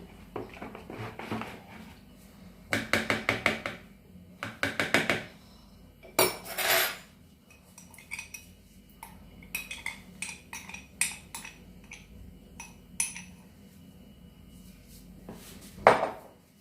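A spoon scrapes and clinks against a cooking pot while stuffed yellow carrots are stirred in grenadine syrup, bursts of metallic knocks separated by quiet pauses, close and fairly soft.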